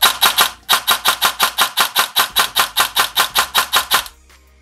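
Rapid bursts from an airsoft gun driven by a brushless motor as the trigger is spammed, about twenty sharp, evenly spaced shots in a fast, loud, close run that stops abruptly.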